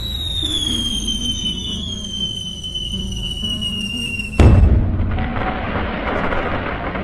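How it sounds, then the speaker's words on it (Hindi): Firecrackers set off during Diwali: a long whistling squeal descends for several seconds before a sudden loud burst, followed by crackling noise that trails off. "ऐसे ही ये लोग सारे पटाखे फोड़ने लगते हैं।"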